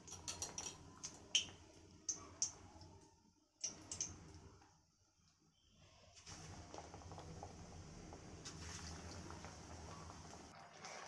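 Round-cut radish slices in bajji batter dropped into hot oil, first scattered clicks and splashes, then a quiet pause, then a steady soft bubbling fry.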